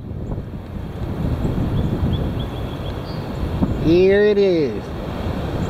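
Heavy wind roars and buffets the microphone continuously throughout, a loud broadband rush, with a brief tonal whistle or horn-like sound near the end and a short spoken phrase under the wind.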